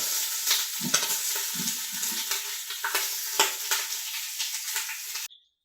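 Oxtail browning in a hot pan, a steady close sizzle with scraping stir strokes and occasional sharp crackles throughout, ending abruptly.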